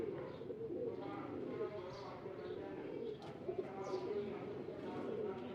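Rampuri pigeons coo in a soft, steady murmur of low rolling calls, with someone talking close by throughout and partly masking them.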